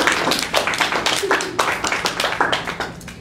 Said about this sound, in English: applaud yourselves for being awesome.